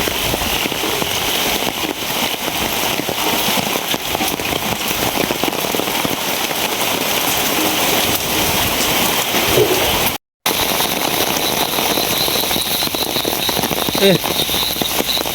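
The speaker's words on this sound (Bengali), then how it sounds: "আবার বৃষ্টি শুরু হয়েছে" Heavy rain pours down steadily in a dense, continuous roar of drops on surfaces, loud and unbroken apart from one brief dropout.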